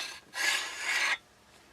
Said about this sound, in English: Next, we're just going to pull the bolt assembly right out.